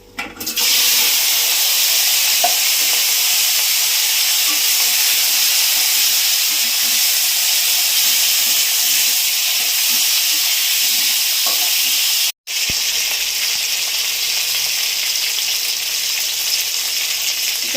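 Seeded bananas and potatoes with green chilli hit hot oil in a pan, setting off a loud, constant sizzle that runs throughout, cut briefly by a short dropout before resuming just as strongly.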